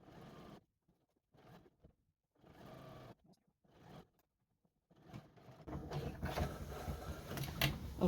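A sewing machine stitches an elastic waistband onto a skirt, first in short stop-start bursts with quiet gaps, then in a louder, continuous run of stitching for the last few seconds.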